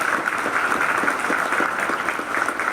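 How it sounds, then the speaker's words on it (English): An audience at a legislative luncheon applauds steadily for nearly three seconds, a dense, even wash of many hands clapping close by with no voices over it. "please give them a round of applause"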